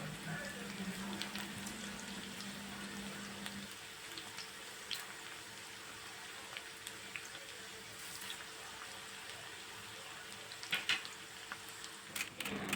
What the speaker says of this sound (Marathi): चिप्स बनवून तळून घ्यायच्या आहेत.